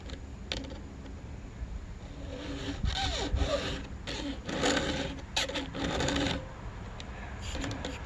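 A six-sided file rasps across a chainsaw chain during a round-to-square file conversion, with steady rhythmic scraping strokes at close range, fairly quiet over a low background hum.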